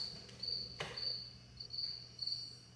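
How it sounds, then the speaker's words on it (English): A cricket chirps steadily in a quiet garage, its high trilling pulses repeating in short bursts with brief gaps, close and fairly clear over a low background hum. "There's a cricket living out here in my garage."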